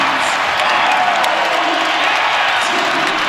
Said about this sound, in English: Look at this crowd. Like, God, they're ecstatic.